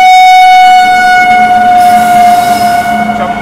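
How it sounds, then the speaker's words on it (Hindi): An express train passing at high speed, a loud, close roar dominated by a sustained blaring horn tone that holds steady for a few seconds. "वो सामने से एक जबरदस्त स्पीड में ट्रेन आ रही है भाई, ये निकल रही है"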